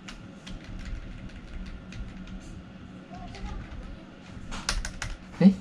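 Typing on a Logitech K360r wireless keyboard, a steady run of light, fast key clicks close by, with a louder clack near the end over a low background hum.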